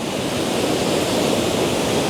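Fast water rushes down a river in the Swiss countryside, a steady loud roar of broadband noise with no breaks and no voices.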